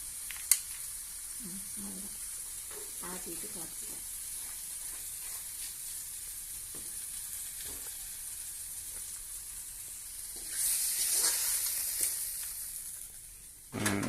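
Tomatoes sautéing in a pan, a steady close sizzle with occasional stirring scrapes, swelling into a louder burst of hissing near the end.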